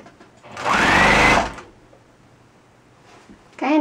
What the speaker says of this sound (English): I'm just gonna sew it fast